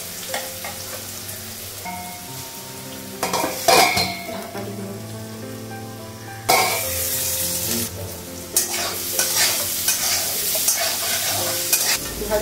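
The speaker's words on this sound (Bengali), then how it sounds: "তারপর পেঁপেটা ভাজা করবো।" Papaya pieces fry in a wok under a steady sizzle while a spatula scrapes and clinks against the metal in irregular strokes, growing louder and busier partway through.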